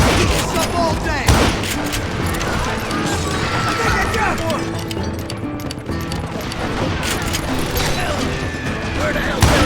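Gunfire in the Western shooter Call of Juarez: Gunslinger, a dense, continuous barrage of shots from many gunmen that keeps a busy, loud wash going throughout, with hoof clatter and other game sounds mixed in.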